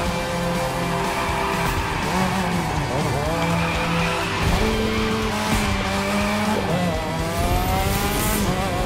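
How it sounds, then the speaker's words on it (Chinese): A car drifts in The Crew 2, engine revving with rising and falling pitch while tires squeal and skid in long sweeping slides, loud and close throughout. "来练个甩尾好了啦"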